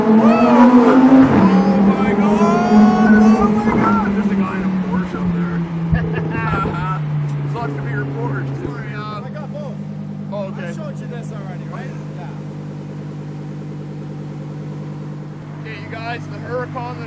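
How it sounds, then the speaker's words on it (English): A Lamborghini Huracan Performante pulls away with a loud engine roar that rises and then fades as it drives off, while people talk nearby. "Huracan that I just went for a ride in, here it is taking off"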